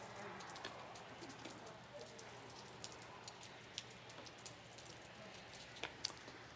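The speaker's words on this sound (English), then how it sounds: "So you can see it's really starting to come down now. It's raining." Rain falls steadily outside, a faint hiss with scattered sharp drops ticking on a surface, quiet and distant.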